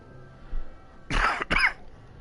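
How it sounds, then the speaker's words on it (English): Two harsh, wet coughs in quick succession from a person with a sore throat and phlegm, close and fairly loud against a quiet room. "I've also got this nasty cough and this phlegm that keeps coming out of my throat"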